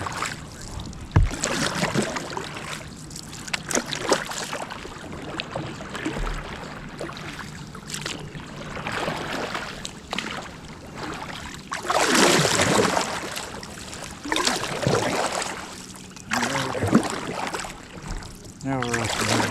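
Paddles splash and churn through river water during the MR340 Missouri River race, with sloshing and knocking from boats moving about and voices calling in the background.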